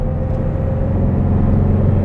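Open-top 1962 Porsche 356 B 2000 GS Carrera 2 with electric sunroof driving along, its engine a steady, loud low rumble with a clear droning tone, close and constant throughout without any talk.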